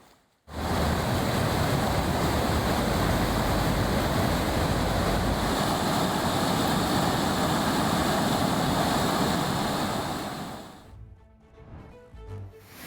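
Water gushing and roaring down Thirparappu waterfall in Kanyakumari, a loud, steady broadband rush that holds for about ten seconds before cutting off abruptly, with only faint noises after.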